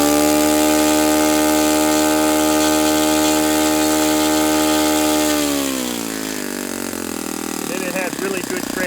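A Saito FA-91S four-stroke model aircraft engine runs loud and close with a steady harmonic drone, then its speed sags and wavers, dropping lower and rising unevenly near the end.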